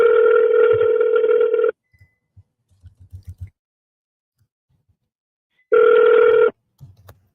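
Ringback tone of an outgoing telephone call, a loud steady two-tone ring burst, a pause with small clicks, then a second ring starting, heard alone.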